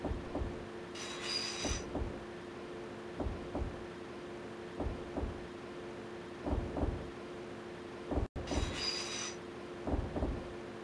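In the video game Densha De Go! 64, a train coasts along with a steady low rumble and an evenly spaced clickety-clack of wheels over rail joints, plus two brief bursts of high hiss.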